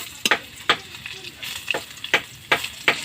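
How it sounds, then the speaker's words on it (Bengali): Garlic frying in a pan for a bitter jute-leaf greens dish: a steady close sizzle, broken by several sharp bursts of crackle and spatter at irregular intervals as it is stirred. "রসুনটা আমার ভালো করে ভাজা হয়ে যাচ্ছে"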